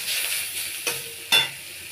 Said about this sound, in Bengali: পেঁয়াজটা ভালো করে ভাজা হয়ে গেছে আমি এখন গ্রেট করা রসুনগুলো দিয়ে দেবো